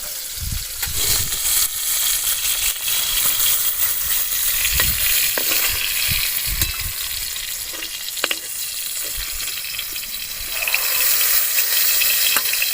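Potatoes frying in a pan with salt and turmeric, giving a loud, steady sizzle throughout that rises and falls with a few clattering stirs, up close and with no talking.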